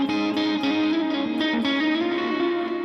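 Electric guitar through a Line 6 clean praise-style patch with heavy reverb and a touch of dirt, playing sustained low notes that ring into a dense, washing tail, steady and close with no talking.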